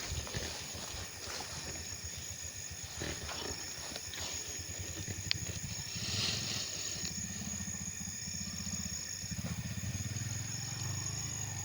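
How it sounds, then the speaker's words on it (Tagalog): A motorcycle rides by nearby at night, its steady engine drone rising and falling under a constant backdrop of chirping insects and crickets. "Kayang kasi may nagmumotor dito po."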